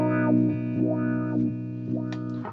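A TC Electronic Flashback guitar effect pedal being switched on and off several times under a sustained, distorted electric guitar tone, which breaks and shifts at regular short intervals.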